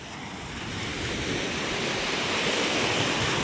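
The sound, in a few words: rough sea waves on the shore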